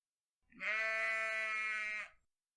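A voice imitates a sheep with a single sustained, nasal "ah" bleat, steady and close, held for about a second and a half against silence.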